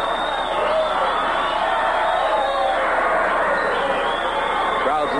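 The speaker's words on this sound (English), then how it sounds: "Meanwhile, the crowds gather." Crowd gathering as a radio drama sound effect: a dense, steady murmur of many voices that stays at an even loudness throughout.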